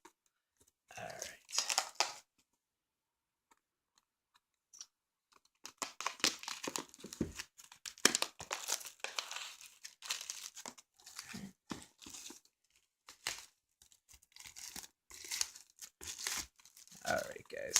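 Plastic wrap torn and crumpled off a Force of Will Vingolf 2 box in bursts of crinkling and ripping, close and fairly quiet, with pauses between and soft speech at times.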